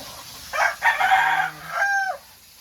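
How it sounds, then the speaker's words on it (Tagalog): A backyard rooster crows close by in the early morning, one full cock-a-doodle-doo in several rising and falling segments, loud and clear with no talking over it. "Tilaok ng manok ang maririnig natin."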